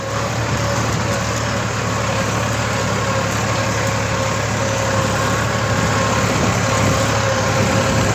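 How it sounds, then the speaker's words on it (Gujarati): A tractor fitted with a loader, working farm land for leveling, its engine droning loudly and steadily at close range without a break. "ટ્રેક્ટર ને લોડર આવ્યું છે ભાઈ"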